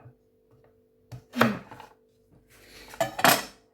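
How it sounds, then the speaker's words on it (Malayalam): Carrots are chopped with a knife on a board, a few sharp close chops in two small clusters separated by quiet gaps, with no talking. "അപ്പോൾ ക്യാരറ്റ് അരിഞ്ഞു."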